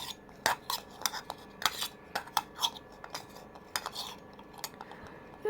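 A spatula working vegetables in a frying pan with salt and turmeric for a cauliflower curry, making irregular close metallic scrapes and clinks with quiet gaps between strokes.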